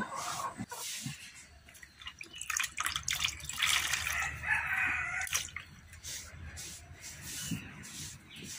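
Two chickens scuffle in a rural yard, with rustling, flapping and scratching bursts and occasional squawks, fairly faint and irregular, with dripping water in the background.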